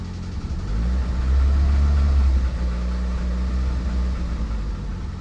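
A car engine cranks and then runs during oil pressure gauge testing, giving a loud, close, low rumble that swells briefly and then settles into a steady idle.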